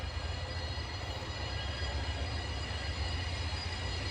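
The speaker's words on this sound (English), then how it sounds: "The train is on its brakes hard." Steady, dense rumble and hiss of a moving train at a distance braking hard, with a sustained metallic grinding edge of squealing wheels, no voices.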